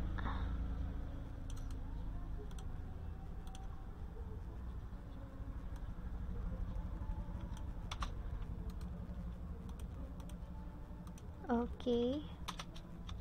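Typing on a computer keyboard, sparse faint key clicks scattered through a quiet room with a low steady hum, plus a brief spoken word.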